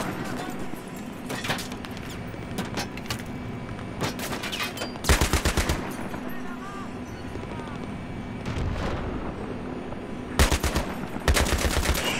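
Mounted machine gun firing in Battlefield 3 during the Thunder Run mission, loud rapid bursts of automatic fire in repeated volleys, with short pauses and battle noise between them.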